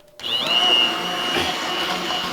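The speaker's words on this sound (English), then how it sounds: "So get your blender in there, make sure it's fully submerged, and then you want to just hit it." An immersion blender whirs loudly in potato leek soup, starting abruptly with a high-pitched motor whine that settles into a steady, slightly churning drone as it blends.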